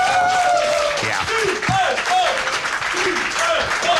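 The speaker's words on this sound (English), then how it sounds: "plenty of the crowd here are already cheering for TLO" A lively esports crowd at a StarCraft 2 match claps and cheers loudly, with whoops and shouted voices rising and falling over continuous applause.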